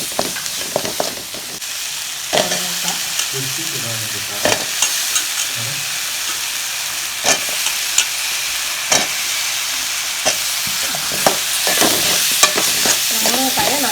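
Onion, tomato, ginger and garlic frying in a pan for drumstick kurma, a steady hiss of sizzling broken by repeated scraping clicks of a spoon stirring, close and continuous without talk.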